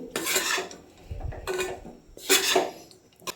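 A spoon scrapes and stirs semolina and sugar roasting in a pan over a very low flame, in a few close, gritty bursts with short pauses between them.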